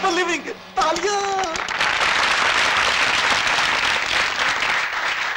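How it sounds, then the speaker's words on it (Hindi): An audience bursts into loud, sustained applause that fills the room after a brief spoken line, the clapping continuing steadily to the end. "तालियां।"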